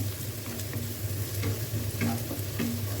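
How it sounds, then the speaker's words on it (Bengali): Onions fry in the oil previously used for frying fish, with a soft, steady sizzle and repeated stirring scrapes, no voices. "এখানে তেলের মধ্যে পেঁয়াজ দিয়ে দিয়েছি মাছ ভেজে নিয়েছিলাম যে তেলে সেই তেলেই"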